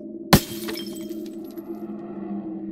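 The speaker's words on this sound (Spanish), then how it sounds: "La ventana del despacho chilla al romperse." An office window shatters in a single sharp crash of breaking glass, followed by a short tinkle of falling shards and a lingering low hum in a quiet room, used as a horror sound effect.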